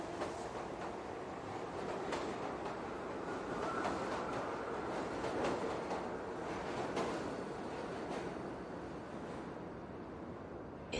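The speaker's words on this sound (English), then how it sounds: "It's a distant train moving through a tunnel miles away." A steady, low rumbling drone with a rhythmic rail clatter, like a train rolling through a tunnel somewhere off in the distance, continuous throughout.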